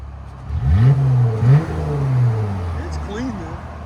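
A 2020 Jeep Gladiator's 3.6L V6 with a BIGBOZ exhaust revs up in two rising pulls, then holds a deep, smooth drone before easing off. The note sounds close and fairly loud.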